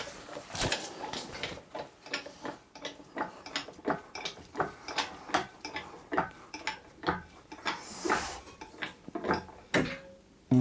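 Rapid, repeated ratcheting clicks from a jack raising a Jaguar gearbox, close and fairly faint, with short pauses and a few metallic knocks between strokes.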